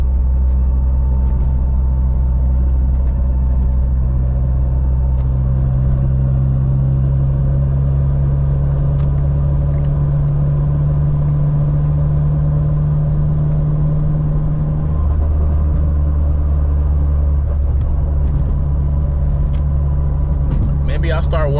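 A 600hp turbocharged Honda Civic engine drones steadily under load from inside the car, a loud sustained tone that shifts pitch midway as the pull changes, with voices now and then.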